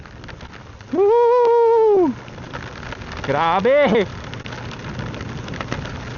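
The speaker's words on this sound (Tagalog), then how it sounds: "Napakalakas ang ulan boy." Heavy rain during a ride on a Suzuki V-Strom 160 motorcycle, a steady broadband hiss of downpour heard close throughout, with a rider's loud exclamations over it.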